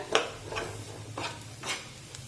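Spice masala stirred into softened onions in a pan, with a few soft scraping strokes of a spoon against the pan, close and alone.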